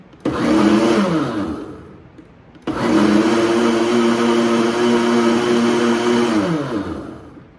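A blender whirs through two pulses of pumpkin cream cold foam, a short burst then a longer steady run, each ramping up and winding down with a loud motor hum; no talking.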